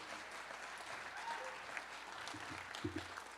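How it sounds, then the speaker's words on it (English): A conference audience at a regional government address applauds for a mayor, a steady wash of many hands clapping at a distance, fairly soft and sustained throughout. "please, a big round of applause."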